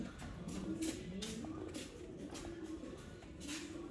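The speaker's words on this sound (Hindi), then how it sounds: "ये देखें सरकार, ये है सियालकोटी बटेरे कबूतर।" Soft, low coos from Sialkoti pigeons repeat under a faint rustling background, several birds murmuring close by in a loose rhythm.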